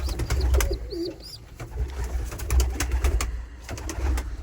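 Pigeons in a loft with young squabs, heard close with soft, repeated low cooing and scattered wing flutters and small knocks.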